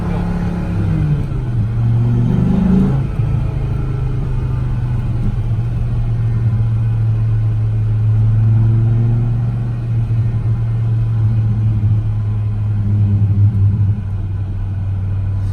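An American car's engine idles with a deep, bubbling rumble through the exhaust, steady and loud at close range, with a brief rise in revs near the start.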